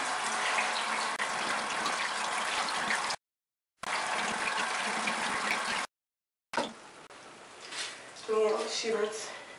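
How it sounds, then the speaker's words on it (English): Water runs steadily from a tap while a face is rinsed with cold water, broken by two short silent gaps, then gives way to splashing and quieter trickling with voices faintly present. "So rinse it off in cold water."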